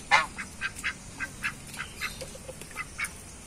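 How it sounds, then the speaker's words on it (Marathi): A duck at a farmhouse quacks about a dozen times in a quick regular series, close and fairly clear over quiet outdoor background. "इथे बदक आहे आम्हाला इथे बदक भेटलेला आहे."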